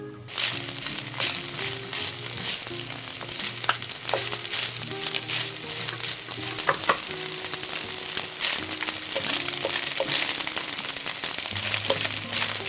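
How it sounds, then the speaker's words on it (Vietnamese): Cooked rice stir-fried over medium heat in hot oil with garlic and shallots, a steady close sizzle running throughout with frequent scraping and clinking strokes from the spatula, and a low droning tone beneath the frying. "Rồi mình cho cơm vào chiên với lửa vừa. Đảo đều tay cho các hạt cơm chín đều và tơi ra ha."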